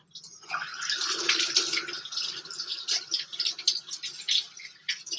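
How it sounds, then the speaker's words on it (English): Running tap water pours steadily into a sink while something is washed off, a continuous splashing hiss at moderate volume with small irregular bursts as the flow is disturbed. "So now I'm just going to wash it off."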